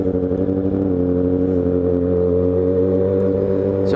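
A motorcycle engine revs loudly and steadily downtown, its deep throbbing note echoing between buildings, then fades at the end.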